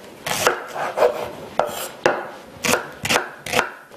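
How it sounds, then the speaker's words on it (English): A knife chops an onion repeatedly on a board, around eight sharp, uneven cuts with a crisp crunch, close up and without speech. "now we can chop up the onion"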